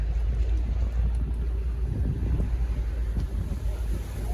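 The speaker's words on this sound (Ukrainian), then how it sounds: "Сьогодні такий вітер трохи" Steady gusty wind buffeting the microphone outdoors at a car market in Lutsk, a continuous low rumble with no voices.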